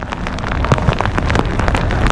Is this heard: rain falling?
yes